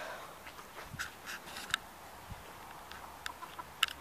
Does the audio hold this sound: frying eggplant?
no